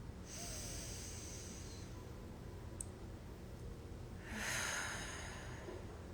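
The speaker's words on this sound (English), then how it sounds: "Exhale all the air. Inhale. Again." Deep breathing during a guided yoga practice: a long, airy exhale followed later by a strong inhale, close and breathy against quiet background hiss.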